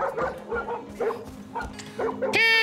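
Dog barking and yipping in the video game Far Cry New Dawn, a series of short barks ending in a higher whine, with a person talking over it.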